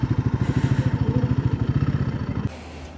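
A motorcycle engine idles close by as the bike is being parked, a steady rapid thumping pulse with clattery mechanical texture that cuts off abruptly near the end, leaving quiet room noise.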